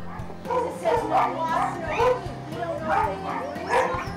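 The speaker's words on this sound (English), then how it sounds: "We're just having a regular dog party in here in the shelter." Several dogs bark, yip and whine over one another in a loud, echoing chorus inside an animal shelter, close by, with repeated overlapping barks throughout.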